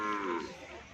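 A cow lows once at a cattle training session, a short, close, fairly loud moo that fades out within a second.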